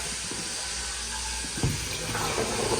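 Liquid is poured through a wet filter on an Australian sheep farm, a continuous close trickling and splashing stream with a brief louder splash partway through.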